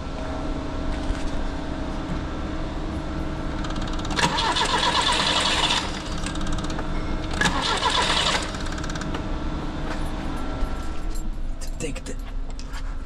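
A Peugeot 204 car engine with its breather hose off cranks in two loud starter bursts, then settles into a steady mid-pitched running hum, close by, with a person talking over it.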